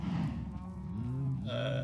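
A cow in Minecraft lets out a couple of low, drawn-out moos, fairly quiet and alone, the second rising a little in pitch at the end.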